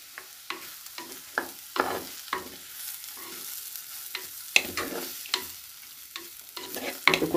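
Butter sizzling in a clay pot ahead of noodles, with a low steady crackle broken by recurring louder scraping stirs every half second or so, close and without talk.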